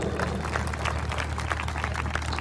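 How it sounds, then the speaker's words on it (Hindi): An audience at a Hindi-language church service on the Holy Spirit claps steadily, a dense, continuous wash of many hands close by with no voices over it. "जरा ताली हो जाए"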